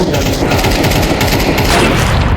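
Rapid automatic gunfire sprays without pause in a Counter-Strike match, a dense, loud, continuous burst of shots filling the moment.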